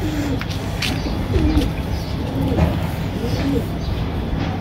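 A female pigeon coos in soft, low repeated phrases, close by, over steady background noise and a few higher bird chirps, with a voice faintly present.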